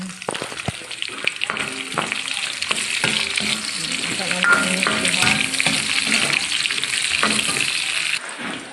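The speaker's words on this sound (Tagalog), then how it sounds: "Ni brown brown na atong ahos, atong lundan og sibuyas bombay." Garlic and onions sauté in a pan for munggos gisado, giving a continuous close sizzle and crackle with occasional stirring scrapes and clinks.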